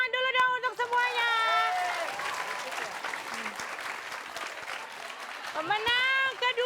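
An audience claps and cheers at a live show, a burst of applause swelling and fading with bright voices calling over it at the start and end.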